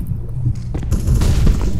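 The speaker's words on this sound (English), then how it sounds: "Deploying flashbang." A flashbang grenade bursts in a tactical shooter game, a deep muffled boom followed by a roaring rumble that stays loud to the end.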